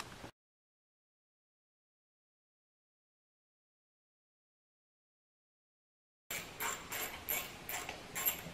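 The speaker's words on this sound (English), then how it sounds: "I'm going to put that new drive wheel on there and see if we can't make this thing work again" Ratchet tool clicks in quick, close bursts while a new drive wheel goes onto a worn Craftsman snow blower, coming in only near the end after a long stretch of silence.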